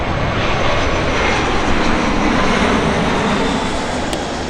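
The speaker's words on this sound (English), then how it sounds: "you can see planes taking off in the background" Loud, continuous jet engine roar from airplanes taking off near LAX in Los Angeles, a broad steady rumble filling the scene with no talking.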